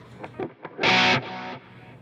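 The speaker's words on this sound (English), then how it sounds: "One is the transistor tape, which is for my regular sound." Electric guitar through a transistor tape delay on a Line 6 Helix, a few short picked notes, then a bright distorted chord that cuts off and leaves a softer delayed repeat fading away.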